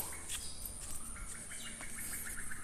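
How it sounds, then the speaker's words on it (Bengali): Several birds call and chirp in quick, repeated short notes, fairly faint against a quiet outdoor background. "পাখির ডাকও শুনতে পারবেন"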